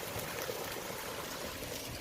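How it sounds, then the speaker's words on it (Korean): Mountain stream on Bulgapsan in Yeonggwang, running full after rain: a continuous rushing and gurgling flow, close and steady for the whole short stretch, with no voices. "물소리 들리시고"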